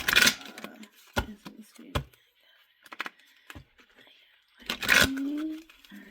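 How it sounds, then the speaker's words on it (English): Oracle cards from a love tarot deck are shuffled in a few short, crisp riffling bursts, separated by quiet gaps, soft taps and faint murmured speech. "Oh, let me shuffle here. Let's do 3 shuffles."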